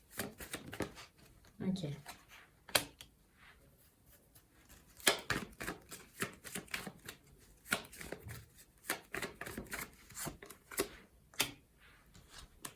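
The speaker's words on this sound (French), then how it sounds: "le temps que je mélange les cartes" Tarot cards shuffled by hand at close range in rapid, uneven bursts of papery riffling and slapping, repeating throughout with brief pauses and a short spoken word.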